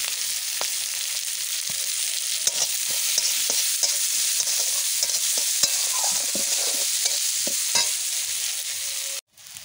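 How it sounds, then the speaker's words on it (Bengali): Chopped onion frying in hot oil tempered with cumin, bay leaf and garam masala, a steady dense sizzle with scraping stirs throughout, close and loud, ending abruptly. "এইবার এখানে আমি কিছুটা পেঁয়াজ কুচি দিয়ে দিচ্ছি।"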